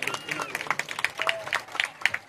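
A live audience claps in scattered, uneven bursts of fairly close hand slaps, mixed with voices talking over and between the claps.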